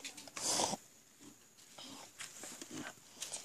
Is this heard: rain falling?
no